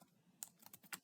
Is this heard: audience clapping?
no